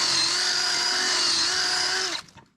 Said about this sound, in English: what I'm going to do first is drill this rivet out